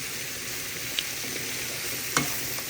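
Bitter gourd (karela) frying in a pan, a steady soft sizzle with a couple of brief clinks or stirring knocks, close and alone without speech.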